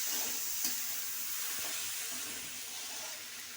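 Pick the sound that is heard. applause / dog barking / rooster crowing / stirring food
stirring food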